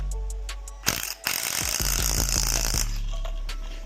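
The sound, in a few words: rattle gun (impact wrench) undoing a strut nut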